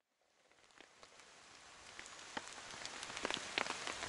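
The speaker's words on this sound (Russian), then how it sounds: "Следующее утро встретило нас белым шумом дождя." Rain patters steadily on a surface at a mountain campsite in the morning, a soft even hiss that swells gradually with scattered sharper drops close by; no voices.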